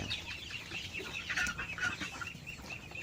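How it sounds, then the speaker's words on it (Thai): A flock of five-week-old Hy-Line Brown laying hens clucking and chirping steadily together at close range, a continuous busy chatter with occasional higher calls. "ไก่ไข่อายุ5สัปดาห์นะครับ"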